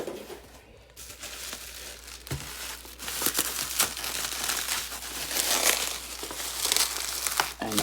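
Plastic clamshell packaging of a Midland WR-100 weather radio being unwrapped by hand, with close, continuous crinkling and crackling that builds in intensity, plus a few sharper snaps.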